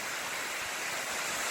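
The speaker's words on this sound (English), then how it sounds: "So we're at the base of Fall Creek Falls." Waterfall roars at the base of Fall Creek Falls, a dense, steady broadband rush of falling water pouring into a small pool, loud and continuous with no voices.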